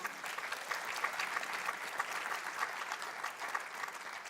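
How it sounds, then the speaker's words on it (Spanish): A church congregation claps together in sustained, even applause that fills the room at moderate level, with no voices standing out. "Denle un aplauso, Señor."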